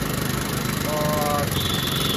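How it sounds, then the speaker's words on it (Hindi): A Honda Shine motorcycle engine with a tensioning timing chain idles steadily with a rough, chugging rumble and some mechanical rattle, continuous and close throughout. "फाइनली स्टार्ट हो चुका है गाड़ी, सुन सकते हो जो इंजन का साउंड है"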